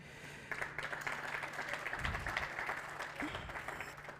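Scattered audience applause at a smart pole project launch event in Slovo Park, Soweto, moderate and diffuse over a steady hum, with a few louder claps standing out.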